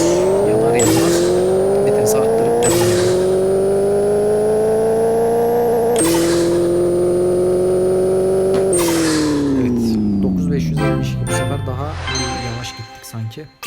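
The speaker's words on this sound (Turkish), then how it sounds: "Lastikleri ısıtalım." A car's engine revs in the Pixel Car Racer video game, its loud, steady engine tone climbing through several gear shifts before winding down, with a voice talking over it.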